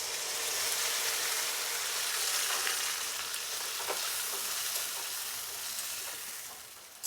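Ground spice paste of ginger, onion, garlic and chilli with tomato frying in a pan with potatoes, a steady close sizzle with occasional stirring scrapes running alone throughout.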